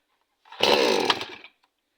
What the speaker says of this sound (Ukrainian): Сьогодні будемо працювати, заводити, показувати, як заводиться пилка.